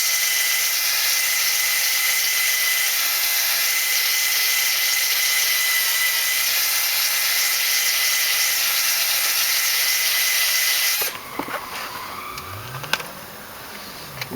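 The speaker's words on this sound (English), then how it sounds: "I was worried about this grinding thing being too aggressive, but that's stainless steel, so it's not hogging it too much" A grinder works on a stainless steel disc brake part from a 1968 AMC AMX, a loud, steady, high whine held for about eleven seconds before cutting off, followed by light clinks and scrapes.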